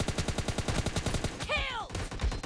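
Rapid automatic gunfire in the mobile shooter PUBG Mobile Lite, a fast rhythmic burst of close shots across the clip with a short swooping game effect midway.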